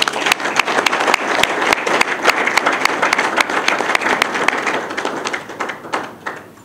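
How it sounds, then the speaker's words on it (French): Applause from a crowd at a political rally about Congolese unity, dense clapping running steadily throughout and thinning slightly toward the end. "Je pensais que vous alliez applaudir."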